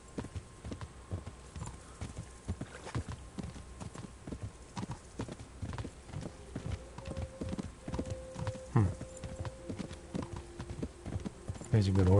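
Horse hooves clip-clopping at a trot in Kingdom Come Deliverance, a steady rhythmic run of close hoofbeats from two horses, with tonal game sounds and talk layered over it near the end.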